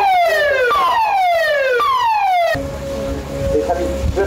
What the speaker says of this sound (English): The assembly siren is about to sound, and crew will be arriving.